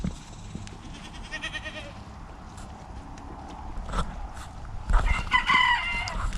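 Goats and chickens kept together in an outdoor yard, with scattered clucks, crowing and bleats at a moderate distance over a steady background.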